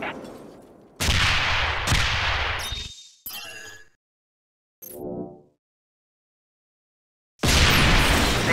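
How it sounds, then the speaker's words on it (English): Heavy cannon fire in the strategy game Anomaly 2, with loud booming blasts in bursts separated by silent gaps and a few brief mechanical effects in between. "They have long-range cannons, so they work best firing across open terrain."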